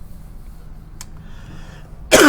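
A single short throat clearing or cough comes near the end of a quiet indoor stretch during a math lesson, loud and close after near silence.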